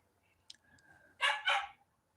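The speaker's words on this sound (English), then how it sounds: "you can hear my dogs barking in the background" A couple of dog barks sound in quick succession, moderately distant, after a faint high whine, with quiet surroundings otherwise.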